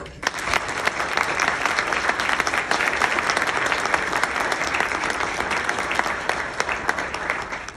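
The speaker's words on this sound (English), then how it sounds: "You may now applaud." A crowd at a dinner applauds steadily throughout, dense clapping at an even, moderate loudness from start to finish with no voices standing out.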